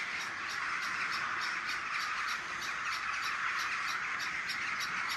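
Rooks calling at a rookery, a repeated chorus of caws over a constant high background din, somewhat distant and fairly quiet, no voices over it.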